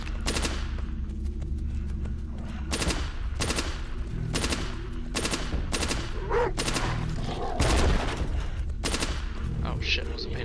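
Bursts of machine-gun fire from a weapon with a 60-round magazine in the VR zombie game Into The Dead, Massacre mode, loud repeated volleys across the whole stretch with a couple of short pauses.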